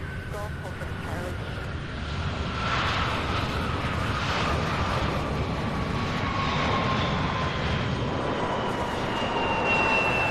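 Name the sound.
airplane taking off at Louisville airport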